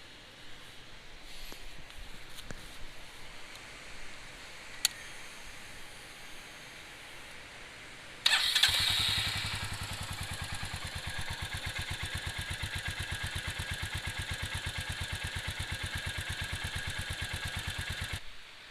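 After a few quiet clicks, a Royal Enfield Meteor 350 motorcycle engine starts up abruptly and settles into a steady, even idle.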